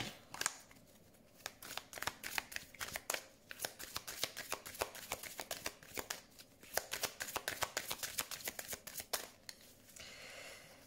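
Tarot cards being shuffled by hand in a dense, continuous riffle of crisp flicks and slaps, close and loud, with short pauses and a softer rustle at the end; no talk.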